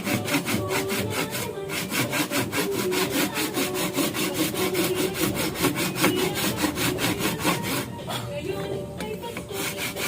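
A hand saw cuts steadily through a hard calabash fruit shell, producing a rapid, regular rasping stroke rhythm that stays loud and close throughout, with a brief pause near the end before sawing resumes.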